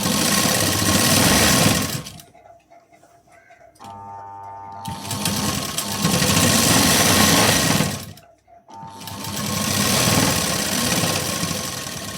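A sewing machine runs fast, stitching a blouse seam in two loud, steady bursts of whirring motor and needle clatter, separated by a pause with a faint mechanical click.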